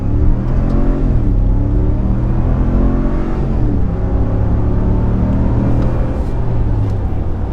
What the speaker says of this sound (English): this truck has a lot of performance in terms of acceleration